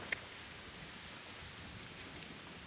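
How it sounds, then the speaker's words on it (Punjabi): Heavy rain during strong wind falls in a steady, even hiss, fairly faint and continuous, with no voices. "ਬਾਰਿਸ਼ ਵੀ ਤੇਜ਼ ਹੋ ਗਈ ਆ"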